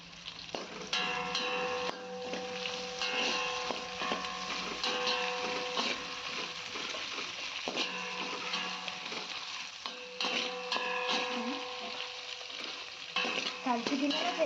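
Cardamom, cloves and bay leaf are stirred in a hot pan for coconut rice, with repeated scraping strokes of a spoon over a continuous close sizzle.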